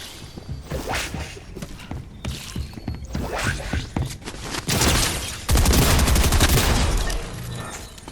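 Shotgun blasts in Fortnite Zero Build, mixed with other rapid game gunfire, whooshes and impacts. Loud, dense, overlapping shots run continuously, and a heavy burst of firing near the end is the peak.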